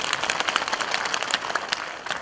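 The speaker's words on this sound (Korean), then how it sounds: "공군에 오신 두 분도 박수 좀 부탁드리겠습니다" Applause at a residents' meeting about relocating an airport, a brisk round of clapping from a seated crowd, close and fairly loud, with individual claps standing out throughout.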